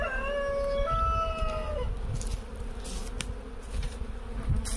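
Honeybees at an open hive full of brood and pollen-dusted bees hum steadily and close up, with a few higher whining tones early on over a continuous low buzz.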